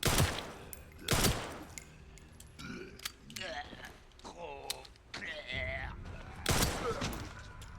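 Gunfire in the survival horror game Resident Evil Requiem, several sharp loud shots in a quick burst at the start, then a single shot, mixed with other game effects and a final loud blast.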